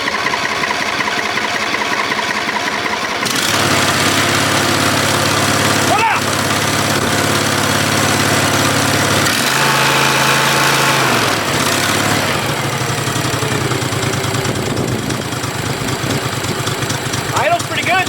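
An old Ferris 61-inch riding mower engine idles loudly and close, starting up after a few seconds and running steadily with slight shifts in its tone.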